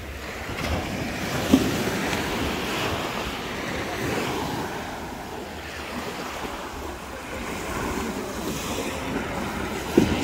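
Sea waves wash continuously at the beach of Porto Cesareo, a broad rushing surf mixed with gusty wind noise on the microphone.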